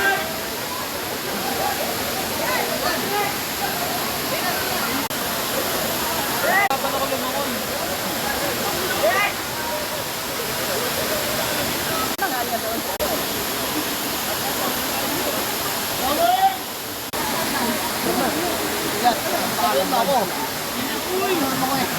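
Daranak Falls pours in a steady, loud roaring rush of water, a constant broadband wash of falling spray heard up close, while people talk and call out excitedly over it.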